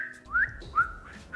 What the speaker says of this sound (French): ça fait longtemps qu'on n'a pas mis les sifflements, Marius.